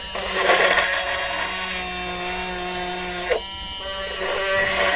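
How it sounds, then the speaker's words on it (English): A small homemade rotary tool with a Dremel bit drills a hole with a steady high whine, close and fairly loud, with a brief dip and change in pitch as the bit bites in. "We're gonna drill a hole right here and see how it works."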